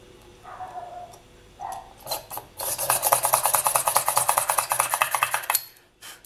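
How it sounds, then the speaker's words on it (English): Close, rhythmic rasping scrapes repeat in quick succession, a small push drill grinding a hole through baked polymer clay, preceded by a few softer handling noises. "we're just going to drill a hole at the top"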